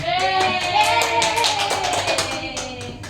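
Classroom applause from a group of pupils, a fast dense patter of many hands clapping close by and fairly loud for about three seconds.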